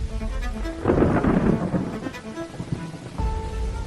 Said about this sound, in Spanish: esa noche, un grupo de hombres armados llegó a Tlaxcalantongo en medio de una torrencial lluvia